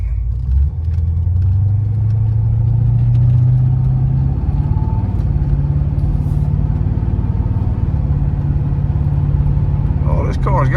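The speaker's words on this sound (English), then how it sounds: "You hear that V8 motor, boy? Listen to it." A 1980 Porsche 928 V8 engine rumbling loudly from inside the car while driving, a deep steady drone that climbs in pitch under acceleration, then settles into a lower even hum.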